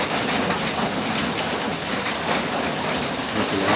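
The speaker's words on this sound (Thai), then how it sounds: "อาจจะเสียงฝนดังเด้อท่านผู้ชมเด้อ อาจจะได้ยินไม่ชัดขอโทษขออภัย" Steady heavy rain falls throughout, a loud continuous hiss of drops with no pauses and no voice over it.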